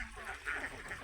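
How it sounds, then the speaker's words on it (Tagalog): Ducks quack in a short, moderately loud burst near the mouth of the Pasig River where it meets Laguna Lake, with a few calls rising over open outdoor background. "Daming itik."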